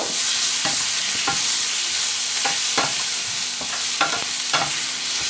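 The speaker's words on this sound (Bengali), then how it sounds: "এটাকেও সুন্দর করে ভেজে নেব" Green chillies and tomato fry in spice masala for a mushroom dish, with a loud, steady sizzle broken by regular scraping strokes of a spatula across the pan.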